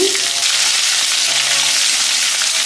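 Urad dal, mustard seeds, cumin and green chilies tempering in hot oil, a loud, dense, unbroken sizzle close up that holds steady throughout with no talking.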